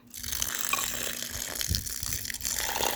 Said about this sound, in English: once the fuel tank gets drained out from the fuel